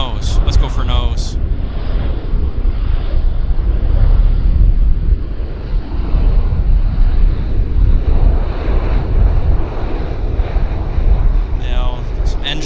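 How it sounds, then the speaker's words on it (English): A loud, steady jet-engine roar from an airplane at Vancouver Airport fills the scene continuously, with heavy wind buffeting the microphone and brief fainter sounds at the start and end. "It's a popular airplane here in Canada."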